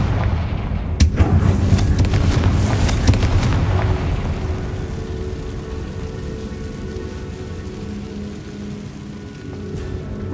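Confringo spell explosions in the video game Hogwarts Legacy: a cluster of heavy booming blasts hits near the start, then fades into a long rumbling tail that slowly dies away.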